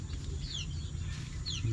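Chickens in a farmyard coop give soft, intermittent clucks against steady low background noise, with a few higher chirps from chicks mixed in.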